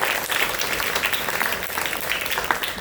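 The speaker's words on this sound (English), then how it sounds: "Can we give a round of applause to Assemblymember Seawright and her dedicated office" Lively applause from an audience at a community event on combating antisemitism, close, dense clapping with a few scattered sharper claps, sustained evenly across the moment.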